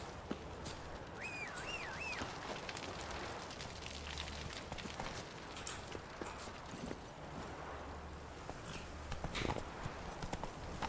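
Rhythmic clip-clop of a horse named Roach trotting steadily through a video game world, hooves close and continuous over a soft ambient bed, with a few brief bird-like chirps early on.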